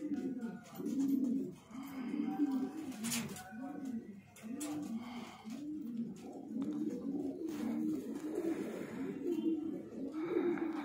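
Breeder pigeons in a loft coo repeatedly, steady rhythmic rolling coos close by throughout, with someone talking over them.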